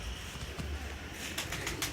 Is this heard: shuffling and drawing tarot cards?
no